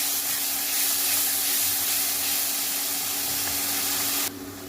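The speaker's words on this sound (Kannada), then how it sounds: "ಇದಾಗಲೇ ರುಬ್ಬಿರುವಂಥ ಪೇಸ್ಟನ್ನು ಹಾಕ್ಕೊಳ್ತಾ ಇದ್ದೀನಿ." Ground masala paste for rasam sizzles in a hot pan with a continuous loud hiss and crackle, dropping abruptly near the end.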